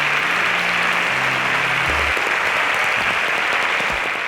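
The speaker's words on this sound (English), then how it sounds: "Please, a round of applause for them as they exit the stage." Continuous applause from a studio audience on the InterswitchSPAK Nigeria quiz show as contestants leave the stage. It is even and sustained, and a low musical tone sounds beneath it at the start.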